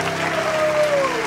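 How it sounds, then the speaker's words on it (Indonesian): Applause at an Indonesian giveaway show, a brief steady patter of clapping with a faint tonal whistle running through it, holding even in level for just over a second. "Bos Kio, tepuk tangan dulu"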